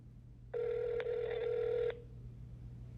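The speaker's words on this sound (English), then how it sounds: "so I thought I would give him a call" A telephone dial tone plays for about a second and a half, a steady electronic tone with one brief break, heard alone over a quiet low hum.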